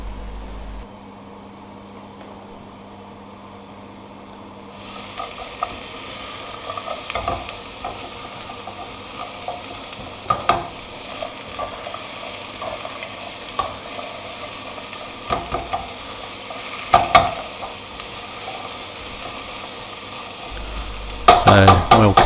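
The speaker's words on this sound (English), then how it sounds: "Need to keep stirring this every so often, and we're waiting for the onions to break down" Onions frying in melted coconut oil in a pan, a steady sizzle that swells once the pan heats up, with repeated scraping knocks from stirring and a louder clatter near the end.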